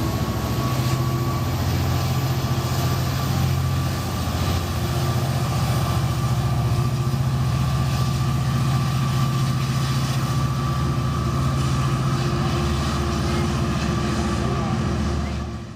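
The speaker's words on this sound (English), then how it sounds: "Our Amtrak train heads off seconds before the Metrolink continues on to Los Angeles Union Station." Amtrak and Metrolink passenger trains pull out of Fullerton station in California, a steady loud rumble of engines and rolling cars with a sustained low drone and hum that carries on unbroken throughout.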